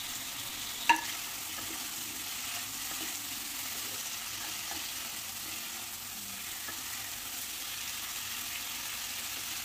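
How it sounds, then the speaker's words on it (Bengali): Fried cauliflower florets stirred into spice masala in a hot pan, a steady soft sizzle running the whole time with light scraping, and one sharp utensil clink near the start. "এবার আমি যোগ করে দেব ভেজে রাখা ফুলকপি।"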